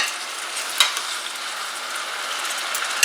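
Pork chops fry and brown in oil in a pan, giving a steady close sizzle with a few small pops and clicks scattered through.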